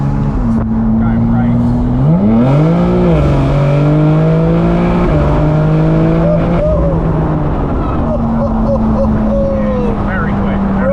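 An 880bhp BMW M4 G83 pulls hard down a street, its engine note climbing and falling through loud, close revving surges while people talk over it.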